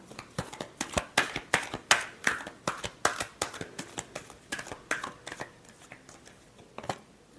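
Tarot cards are shuffled by hand in a steady run of crisp, close riffling slaps and flutters, about a dozen sharp bursts that thin out toward the end.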